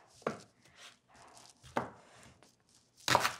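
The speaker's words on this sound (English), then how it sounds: "now it's time to peel the onion. And chop it up" Knife chopping a peeled onion for aloo gobi on a board, three sharp distinct chops spaced about a second and a half apart, with faint handling sounds between them.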